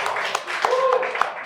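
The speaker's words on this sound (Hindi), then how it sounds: "एक बार जोरदार तालियां" A small studio audience at a panel quiz show with NEET toppers claps in a brief, loose patter of sharp individual claps, mixed with voices talking.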